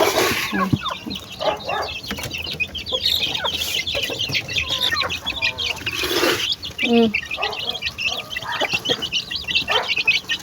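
Backyard chickens and chicks cluck and peep while feeding on scattered food, with dense, overlapping calls, small pecking sounds and occasional louder squawks close by.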